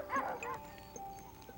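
Alaskan Husky sled dogs at a sled dog marathon give a few short, faint yips and barks at a distance, with a brief cluster early on and scattered single calls after.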